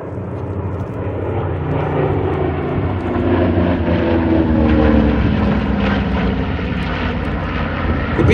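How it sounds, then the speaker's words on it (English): A B-25 Mitchell bomber flies past at an airshow, its twin piston engines giving a loud, steady, rumbling drone that swells slightly mid-pass and holds for the whole stretch, with no talk. "The B-25 could get up to, 270, 280 miles an hour if it really needed to"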